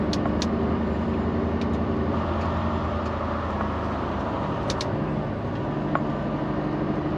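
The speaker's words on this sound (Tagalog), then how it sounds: "Volvo talaga, guys. Malakas ang engine brake" A Volvo truck using its engine brake on a downhill stretch in British Columbia, a steady loud low rumble and drone throughout with a few faint clicks on top, no talk.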